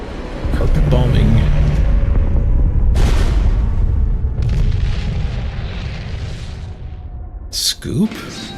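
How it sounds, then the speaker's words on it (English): Heavy carpet bombing explosions boom in the World War II card game KARDS, deep rumbling blasts layered one after another, loud and close with a voice talking over them. "Carpet bombing."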